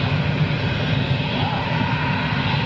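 Lufthansa jet landing with heavy reverse thrust, a loud continuous broadband roar that holds steady and near throughout, with a faint rising whine partway through.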